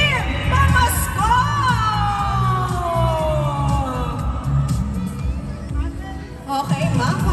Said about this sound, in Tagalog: Sino dito kayang mas sumigaw ng Belize Kim Pamasko?